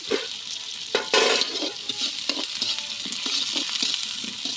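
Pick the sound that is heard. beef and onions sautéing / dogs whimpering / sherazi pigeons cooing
beef and onions sautéing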